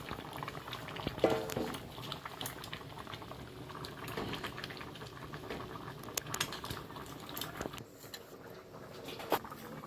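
Fish curry with pumpkin, seasoned with cumin powder, bubbles in a pot at a steady close simmer, with occasional utensil clinks and brief faint voices.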